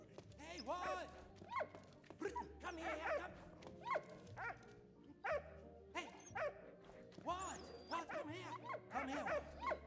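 A dog in the video game Valiant Hearts: The Great War barks and whimpers in short repeated bursts with gaps between them, fairly near, amid light game sounds.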